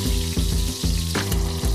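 Quail sizzling and frying in oil in a pan, a steady close crackle with rhythmic bursts of scraping or stirring every half second or so.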